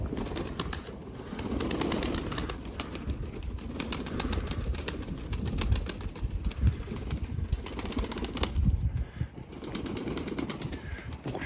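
Pigeons flap and splash as they bathe in a downpour, with a dense, continuous rustle of wings and water and no voices.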